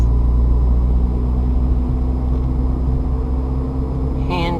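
Inside a car with a manual gearbox, a steady low engine drone and road rumble through an upshift, with a brief tonal chirp at the very end.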